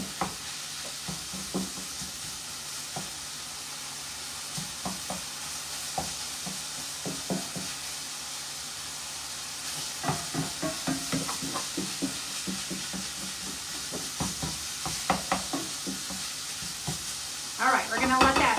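Seasoned taco salad meat simmers and sizzles in a pan, with rhythmic stirring scrapes repeating throughout at close range, and faint talk drifting in now and then.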